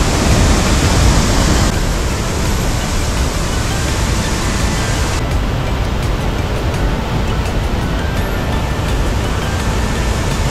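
Waterfall near Quebec City in winter, mist frozen into a snow pile nearby; a steady, loud broadband roar of falling water fills the whole stretch without talk.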